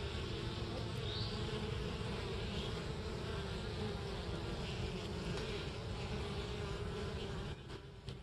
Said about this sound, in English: Good healthy bees